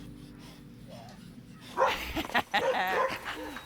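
A rescue dog gives short yips and whimpering barks in a quick, uneven burst that starts partway through, close by, with a voice speaking briefly over it.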